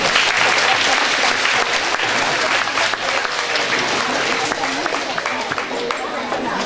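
A crowd applauds steadily and loudly throughout at a Chinese language competition, dense clapping filling the whole stretch with a faint murmur of voices underneath.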